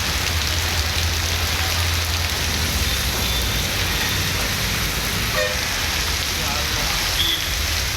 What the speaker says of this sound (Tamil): செங்கல்பட்டு மாவட்டம் மதுராந்தகம் சுற்றுவட்டாரத்தில் 2வது நாளாக கனமழை பெய்தது